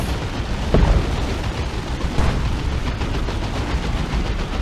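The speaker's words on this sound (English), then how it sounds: "It is firing its machine guns actually." Dense, continuous battlefield gunfire in Dawn of War 2 as a battle wagon fires its machine guns, with a steady loud roar of rapid shots and a couple of heavier impacts, no voices.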